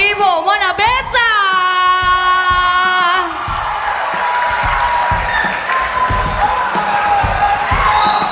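A loud crowd at a boxing match applauds and cheers for the winning boxer, a dense sustained roar of clapping and shouts, with an amplified announcer's drawn-out voice ringing over it at the start.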